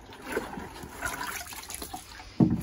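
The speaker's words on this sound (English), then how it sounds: "I'll put some water on them anyway." Water is poured into the base of tomato plants, a soft, uneven trickle and splash close by, ending in a brief louder slosh.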